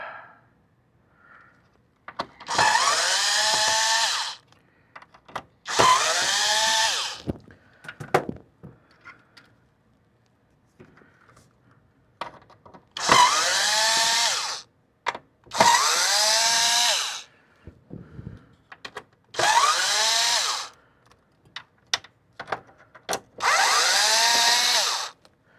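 A power drill removing screws from the circuit board of an International Navistar truck instrument cluster, whirring in six short loud bursts of about a second each with quiet clicks and handling noises between.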